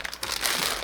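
Crinkly plastic wrapping rustles and crumples as it is pulled off a figure's coat, a short burst of close, continuous crackling that grows denser midway.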